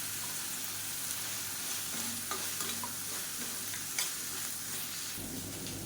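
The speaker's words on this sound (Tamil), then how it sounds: "காலிஃப்ளவர் சேர்த்து நல்லா ஒரு ரெண்டு பரட்டு பரட்டி விட்டுட்டு" Cauliflower stirred while frying in a pan, a faint steady sizzle with soft intermittent spatula scrapes, heard from close by without talk.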